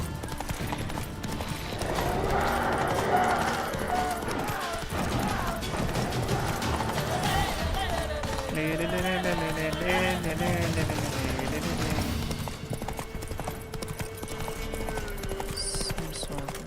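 Geralt's horse Roach gallops in The Witcher 3, its hooves clip-clopping in a quick, steady rhythm. The hoofbeats run close and continuous beneath game music and ambience, and a brief whinny may rise in the middle.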